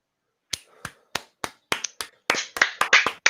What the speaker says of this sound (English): I'm clapping into the microphone.